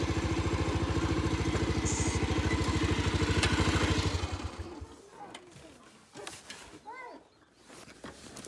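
A motorcycle engine runs close by with a steady rapid putter for about four seconds, then cuts off, leaving quieter scattered sounds and a voice speaking.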